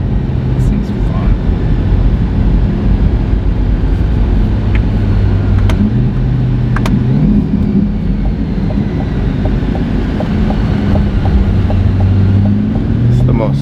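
A supercharged C8 Corvette engine heard from inside the car while driving and accelerating, a loud sustained drone with rising whine and pitch sweeps as revs climb, under occasional conversation.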